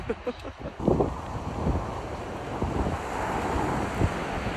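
Surf washing onto a beach under gusty wind buffeting the microphone, a broad roaring wash with a few soft breaking surges.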